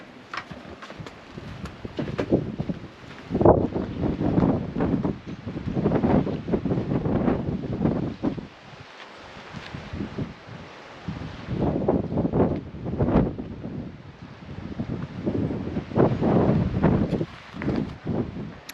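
Strong gusting wind at a campsite on South Australia's Eyre Peninsula buffets the microphone in rough, surging waves, rising and falling for a long stretch with brief calmer lulls.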